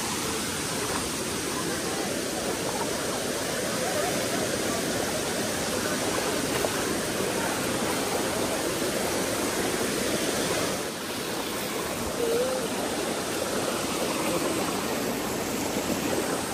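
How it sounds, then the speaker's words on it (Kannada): Waterfall near Sakleshpura: a continuous loud roar of rushing water, steady and close with no break, drowning out other sounds. "ಅಲ್ಲಿ ಮೇಲೊಂದು ಫಾಲ್ಸ್ ಇದೆ, ಅದು ಸ್ವಲ್ಪ ದೊಡ್ಡದು."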